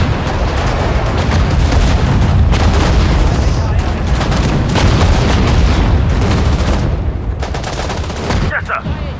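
Battlefield in Sudden Strike 4 at Dunkirk, with continuous loud gunfire and booming artillery forming a dense, unbroken barrage of rapid shots and blasts throughout.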